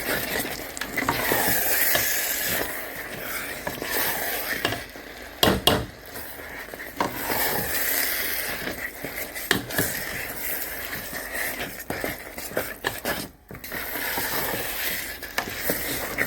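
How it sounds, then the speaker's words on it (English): Stirring a pan of onions frying with pepper and paprika for a low-potassium diet sauce, with steady scraping and clinking of the utensil against the pan over a continuous sizzle. "So I'm gonna stir the both of them so I can still fry it"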